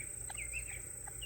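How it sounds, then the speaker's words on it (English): Guinea fowl calling on a homestead, a few short faint chirping calls over quiet outdoor background noise. "The guinea birds heard me talking and they figured they'd come running and seeing what's going on."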